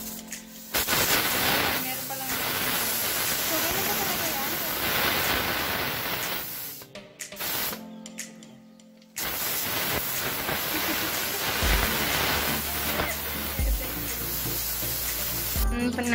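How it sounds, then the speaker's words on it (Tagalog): Pressure cooker with its flame turned off, releasing built-up steam pressure while dulce de leche cooks inside: a loud, steady hissing rush fills most of the span, briefly cutting out once before resuming, with a voice speaking over it. "hintay natin mawala yung pressure niya."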